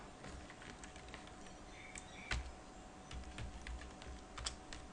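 Typing on a computer keyboard running Ubuntu, a steady patter of close, light key clicks with a few louder strokes and no voices.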